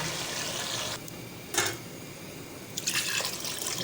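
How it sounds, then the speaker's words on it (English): Water poured into a cooking pot of oil-fried beef and taro, a broad splashing pour starting near one second with a brief louder splash and more pouring near the end, steady and fairly close. "Add water."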